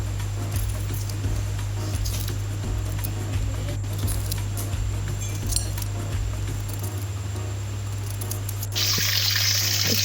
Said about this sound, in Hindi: इसको पानी से वॉश करेंगे।